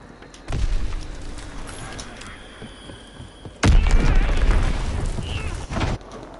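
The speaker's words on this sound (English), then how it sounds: "Enemy bomb incoming!" A World War II Call of Duty battle with a low, booming enemy bomb blast that swells suddenly and rumbles for a couple of seconds, following an earlier softer thud, with game voices faintly underneath.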